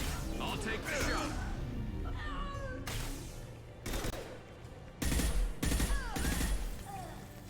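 Gunfire bursts from Mass Effect 2 combat crack out in several loud, clustered volleys, mixed with game voices and other in-game noise.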